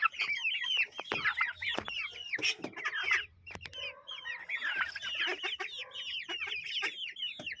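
A noisy flock of chickens, guinea fowl and turkeys calls continuously, with repeated harsh, chattering cries and clucks overlapping, loud and close, without talk.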